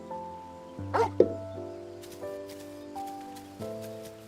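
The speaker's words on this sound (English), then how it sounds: "That's a good dog." A dog in the video game Final Fantasy XIV gives a couple of short barks around the one-second mark over sustained music tones, fairly quiet and close.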